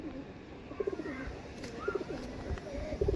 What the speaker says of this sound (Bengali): বন্ধদুমের পায়রা এটা